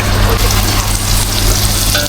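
Onion, garlic and ginger sauté in hot oil in a small pot, giving a steady, close, dense sizzle and crackle that holds for the whole stretch with no talking.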